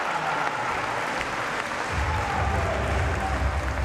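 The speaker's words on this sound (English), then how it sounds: "that drew big applause" Arena crowd applauding and cheering after a men's horizontal bar routine at a university games gymnastics final, a steady broad clapping wash that swells louder midway with a low rumble of voices beneath.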